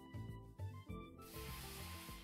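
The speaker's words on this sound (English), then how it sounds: "That's the sound of the steam boiling off." Steam hissing off a boiler in Minecraft with the GregTech mod, a steady broad hiss that swells in after a few soft tonal game sounds and holds on to the end.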